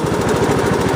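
Craftsman LT2000 lawn tractor engine lugging as it drives up a hill, a close, loud, steady rapid thumping drone with no talk.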